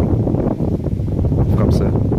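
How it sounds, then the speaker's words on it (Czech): Strong wind gusts across an open fishpond during a harvest, roaring loudly into the microphone as a buffeting, rumbling rush with no speech over it. "Poslechněte si chvilku šumění větru"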